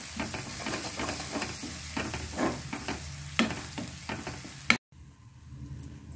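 Masala with coriander powder and ginger garlic paste is stirred and sautéed in a pan, a soft continuous sizzle broken by repeated scraping strokes of a spoon, ending in a sharp clack and sudden quiet.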